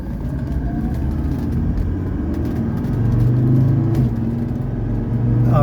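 A 1984 Mercedes 300SD S-Class diesel accelerating on the road, heard from inside as a steady low engine drone that swells and builds in strength over a few seconds.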